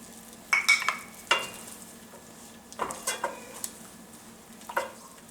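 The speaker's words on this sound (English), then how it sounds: "I'm going to give this a stir." Spaghetti with clams, black pepper and parsley stirred in a pot, soft clattering and scraping of a utensil in short bursts over a quiet background, close and clear.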